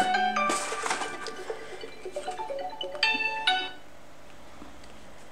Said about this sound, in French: excusez-moi, mon téléphone a sonné